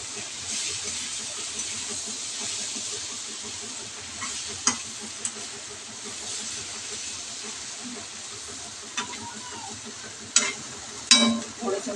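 Prawns and coriander sizzling in a pan for a prawn chutney, a steady close hiss of frying with occasional scrapes and clicks of a utensil stirring, louder toward the end; no talk.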